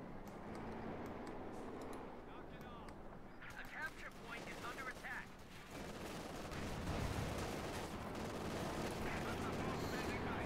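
Machine gun and rifle fire in the Company of Heroes 2 strategy game, steady bursts and scattered shots with distant booms, running continuously beneath a commentator talking.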